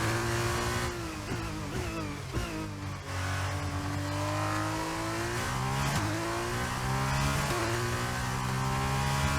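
An F2 race car engine in the video game F1 22 drones loud and steady, its pitch sliding up and down through gear changes and throttle lifts under braking, with no talk over it.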